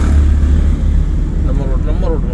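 A driving-school car engine rumbling deep and loud while under way as the driver shifts into third gear, with a person talking over the engine noise.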